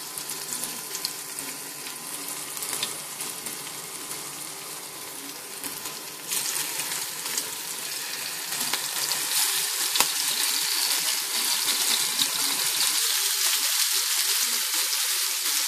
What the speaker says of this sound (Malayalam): എണ്ണ ഒന്ന് ചൂടായി കഴിയുമ്പോൾ അതിലേക്ക് ചെമ്മീൻ ഇട്ട് കൊടുക്കാം